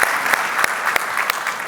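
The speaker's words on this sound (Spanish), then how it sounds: "Dale un fuerte aplauso al Señor." A church congregation claps loudly and energetically. Dense, continuous applause is punctuated by a few sharp, rhythmic louder claps.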